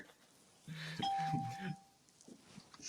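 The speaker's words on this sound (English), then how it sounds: "That's someone's doorbell." A doorbell, likely a phone notification, chimes softly indoors in a short two-tone ding, faint and brief, with a voice speaking around it.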